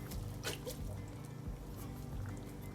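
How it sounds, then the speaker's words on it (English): A can of Rotel tomatoes poured into a pot of rice, water and ground beef, a soft wet glugging and splatter with small drips, faint and close. "We're gonna go ahead and add a can of Rotel and a can of"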